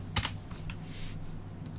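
Keys on a computer keyboard clack in a short, quiet burst near the start, followed by a couple of fainter taps, close by and with no voices.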